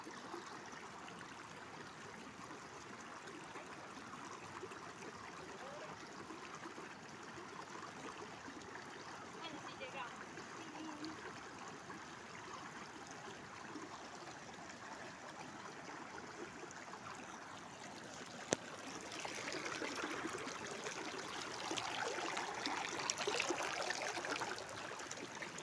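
A river flowing straight toward a rocky riverbank spot gives a steady, moderately loud rushing wash throughout, swelling a little louder near the end, with faint voices talking at times in the background.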